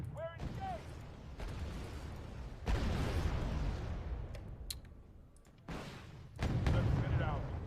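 Tank cannon fire in the Wargame Red Dragon strategy game, set in a Second Korean War battle: several heavy booming shots with rumbling tails, separated by pauses, with a voice talking in between.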